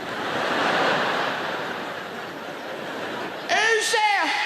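A voice imitates a fridge waking up noisily at 3 a.m., a rising, warbling mechanical groan that arrives suddenly near the end, after a long wash of steady crowd or room noise at a big arena comedy show.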